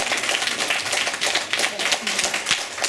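A school audience gives loud, dense applause to welcome a new teacher, an even wash of many hands clapping with a few sharper claps standing out, sustained throughout without pause.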